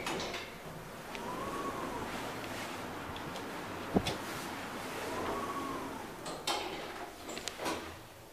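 Schindler 5500 machine-room-less traction elevator doors sliding open and closed in a shopping center, two soft sweeping door runs with a sharp thud between them and scattered clicks, set against steady ambient mall noise.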